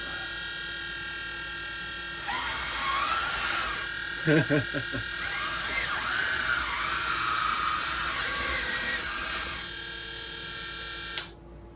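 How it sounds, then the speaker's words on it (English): A 1:14 scale RC4wd DXR2 hydraulic dozer's pump whines steadily for about ten seconds with a high electric hum, a brief rattling burst midway, and a sudden cutoff near the end. "turn the hydraulic pump off, let it chill for a minute"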